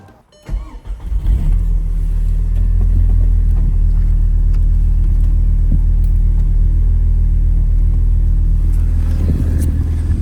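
An Audi TT engine with a single mass flywheel cranks and starts, then settles into a steady, deep idle rumble close by.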